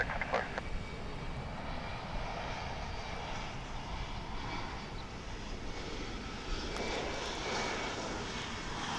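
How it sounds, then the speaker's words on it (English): American Eagle Embraer 175 jet arriving at DFW International Airport, its engine roar a steady broadband rumble held throughout, swelling slightly near the end with faint voices underneath. "an Embraer 175. You may hear it in the background."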